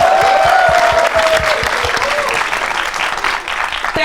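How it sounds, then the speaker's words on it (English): An audience claps together in sustained, dense applause at a talk about what Indian content creators earn. It stays loud and steady for about four seconds, with a faint voice or tone underneath. "Can we clap for her, please?"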